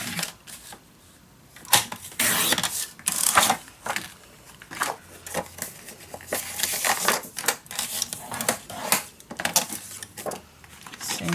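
Paper is cut in repeated short crisp bursts with pauses between, close and fairly loud, while making a steampunk Christmas mini album, along with light handling rustle and no talk.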